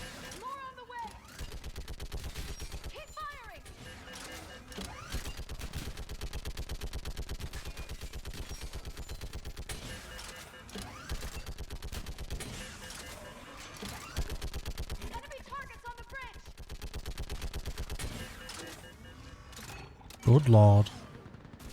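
Sustained gunfire from Mass Effect 3 combat, dense rapid shots layered under a game soundtrack with voices speaking throughout, ending in a short louder burst.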